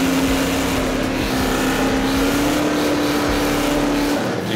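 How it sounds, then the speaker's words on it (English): V8 cars doing burnouts roar with a loud, sustained engine howl and tyre screech, holding steady at a high pitch with a slight rise throughout, with no speech. "Peep the fresh outro of us living our best V8 lives, doing burnouts on both sides of the planet"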